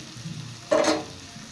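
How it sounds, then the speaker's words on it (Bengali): Onions frying in a pan: a quiet background suddenly breaks into one short, bright sizzling burst lasting under half a second, then settles back to a low murmur. "এবার পেঁয়াজগুলো একটু ভেজে নেব"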